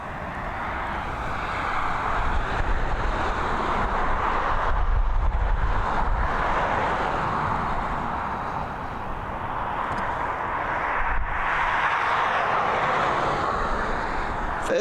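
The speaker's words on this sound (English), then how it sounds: "that 321neo heading over to Istanbul" Airbus A321neo departing Dublin Airport for Istanbul: a sustained jet engine roar that swells and eases in waves as it passes, loud and continuous with no talk.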